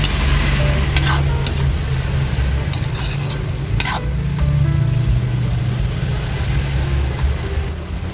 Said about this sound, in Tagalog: pwede na natin halu-haluin yung ating ampalaya